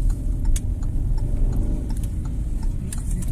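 A car engine under low, steady load, running near and continuous for a few seconds as it pulls away in gear during a clutch-control lesson in traffic, with faint clicks and no speech.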